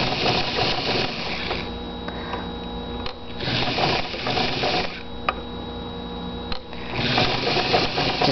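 An electric sewing machine stitches fabric for a bird mobile, running past the point of a beak-shaped piece with a close, steady mechanical whir in several runs broken by short pauses and clicks.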